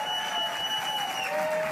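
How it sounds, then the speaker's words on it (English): A studio audience at a late-night political comedy talk show applauds in a continuous, even wash of clapping with a steady tone running beneath it. "They're applauding that"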